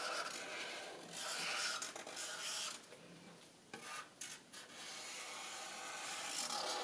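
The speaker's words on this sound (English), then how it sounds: "using your chisel tip Sharpie, you can make your lines nice and bold" A chisel tip Sharpie marker drags across paper in long, steady strokes, giving a close, continuous rasping rub with short pauses and scratchy bursts between lines.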